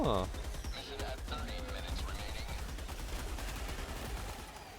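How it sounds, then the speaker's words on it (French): Heavy machine gun firing in Helldivers 2 against Terminids, rapid sustained bursts of close gunfire with a voice briefly heard at the start. "Ah, la mitrailleuse lourde, elle est vraiment trop cool."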